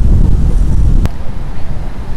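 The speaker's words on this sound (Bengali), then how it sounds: "বেশ বাতাস" Steady, loud wind by the water near the Champlain Bridge rumbles and buffets the microphone throughout, with a brief sharp click near the middle and no voices.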